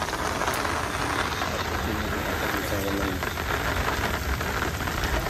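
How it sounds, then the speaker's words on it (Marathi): Heavy rain pouring down outdoors during a storm, a steady dense hiss with a faint low engine-like hum underneath and a brief murmur of voice. "अरे एक पावसाचा जोर जबरदस्त आहे आज."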